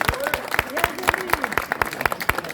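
At a medical equipment center opening ceremony in Brussels, an audience applauds a visiting delegation from Tangier with light, scattered clapping over steady murmuring talk from the crowd.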